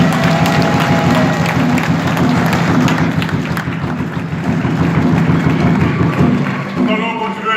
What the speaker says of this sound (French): Applaudissements très fort pour le président